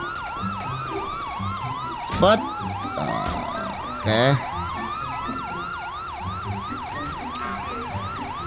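A wailing ambulance siren in GTA 5 cycles continuously and loudly, with a couple of sharp bangs and brief voices speaking over it.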